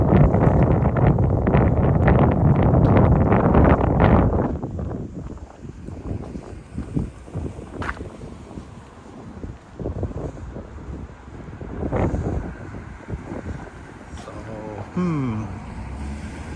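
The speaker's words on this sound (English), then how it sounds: "It is windy today." Heavy wind buffets the microphone with a loud roar at first, then eases to gusty rumbling outdoors in Kinuta Park, Tokyo, with faint voices in the background.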